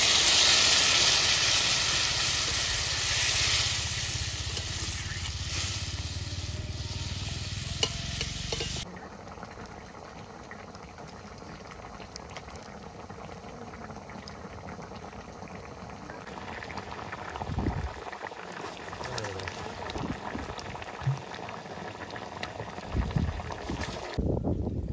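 Curry in a pan on a village cooking fire, just thinned with water, boils and steams with a steady bubbling hiss and sizzle. The sound is louder at first, then settles into a softer simmer with occasional stirring noises.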